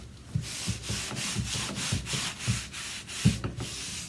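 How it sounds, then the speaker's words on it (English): A cloth wipes excess homemade carnauba wax off painted furniture in steady, even back-and-forth strokes, each a soft, close rubbing swish, about eight or nine in all. "just like commercial wax, you just wipe off the excess"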